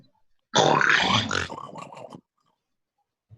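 Several people imitate pig oinks with their voices, a single loud grunting burst lasting under two seconds that trails off into quieter snorts, followed by silence.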